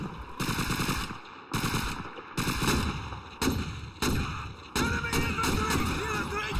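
Call of Duty 2 video game gunfire sounds as loud rhythmic bursts, about six sustained volleys each lasting around a second with short gaps between, close up and dominant, with faint talk underneath.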